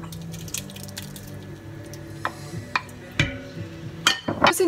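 Tomato dropped into a chicken and fennel tajine already holding water, giving a few soft wet squishes and clinks of cookware, with a louder splashy burst near the end and no talking.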